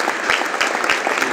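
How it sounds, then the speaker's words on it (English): Audience applause at a blockchain conference, a dense burst of steady clapping from a seated crowd lasting just over a second, close and fairly loud with no voices over it. "Ladies and gentlemen, a big round of applause for Justin."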